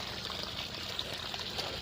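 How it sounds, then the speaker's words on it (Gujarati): Water trickles and pours steadily onto chilli plants in a farm field, a faint continuous splashing stream running the whole time with no talk over it. "ને આ મરચીઓ છે એમાં પાણી પાઈ દઈએ"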